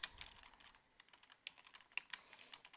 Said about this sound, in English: I'm going to type this out so you can read it